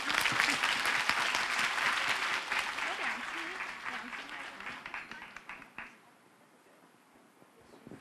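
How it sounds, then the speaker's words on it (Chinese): An audience at a live singing performance claps steadily in loud applause that gradually thins out and fades, with a voice speaking faintly beneath it. "哎，掌声鼓励。"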